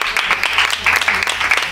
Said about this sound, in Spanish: para la cual pido un fuerte aplauso a Ronda